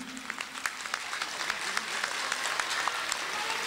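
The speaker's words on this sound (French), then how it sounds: "Je demande à tout le monde de l'applaudir." An audience at the official launch of a political movement claps in a steady burst of applause, moderately loud, with dense irregular claps and no voices over it.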